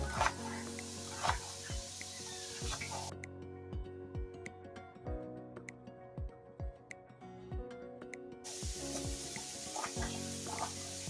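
Minced meat sizzles and crackles steadily in a pot on the stove, with sharp ticks and clicks of a spoon scraping the pot mixed in, close and fairly quiet.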